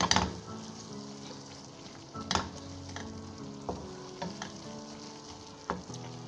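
Onions frying for beef malai pasande give a steady sizzle, broken by occasional spoon scrapes and knocks against the pot, close and fairly loud with no voices.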